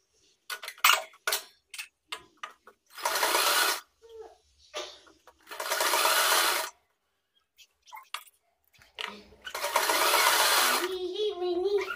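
A home sewing machine stitches fabric folded inward for an elastic casing on a toddler's pajama, running in three sustained bursts of steady mechanical whirring separated by pauses filled with small clicks and handling noises.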